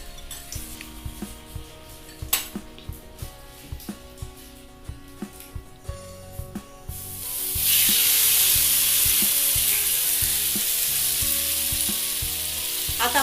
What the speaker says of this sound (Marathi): तर आपण दुसरं पण थालीपीठाचं टाकून घेऊया तव्यावरती.